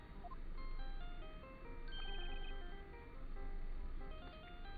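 A melodic electronic phone ringtone from the game Phoenix Wright: Ace Attorney, looping a bright tune in repeating phrases at moderate volume with no talk.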